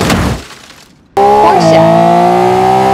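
A Lamborghini in a driving game hurtles toward a giant pit: a brief crash-like burst, a near-silent gap, then a sudden loud, steady engine roar with harmonic tones that bend slightly.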